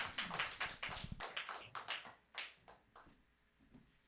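A church congregation at a Wednesday worship service claps in welcome: soft, scattered applause that thins out over a few seconds, heard from a distance.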